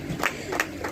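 Audience clapping at a media summit: a short, close burst of applause with crowd noise and a couple of sharper peaks, and no voices.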